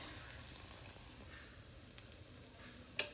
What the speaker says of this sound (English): now that I have my beans sizzling